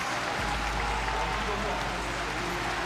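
Crowd at a Street Fighter 6 watch party for the Capcom Cup 11 grand final, a dense, sustained roar of cheering and applause that fills the whole stretch, loud and broadband with voices mixed into the din.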